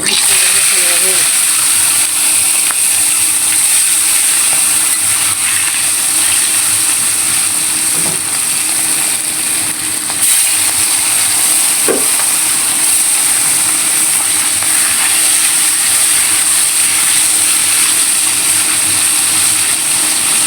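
A large hilsa fish sizzles in hot oil in a pan, giving a loud, steady, hissing crackle that continues without a break from start to finish.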